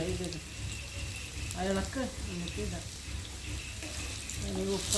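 Baby potatoes roast in a pan on low heat with a steady soft sizzle and occasional stirring, while someone talks over the cooking.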